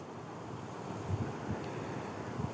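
Strong wind roars steadily into the microphone, with rumbling gusts and buffeting throughout.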